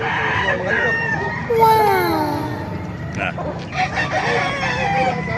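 White Kelso gamefowl roosters crow at an outdoor chicken market in Calumpit, Bulacan, with overlapping drawn-out calls and fainter distant crows rising over a busy crowd murmur and nearby talking.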